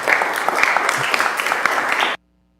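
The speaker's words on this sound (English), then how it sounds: "Give yourselves another round of applause." An audience gives a sustained round of applause at a public event in Tobago, dense clapping that stays steady for about two seconds and then cuts off abruptly into silence.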